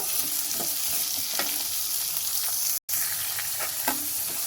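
Bitter gourd pieces frying in a pan until golden for a tamarind curry: a continuous close hiss of sizzling oil with occasional stirring scrapes, briefly cut to silence once, no talking.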